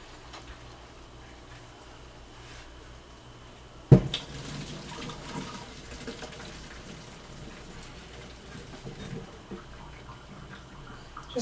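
Cooked stir fry is poured into a strainer at a kitchen sink. After a quiet start, a sudden splash is followed by trickling and pattering water that slowly tapers off. It sounds close, with no talking.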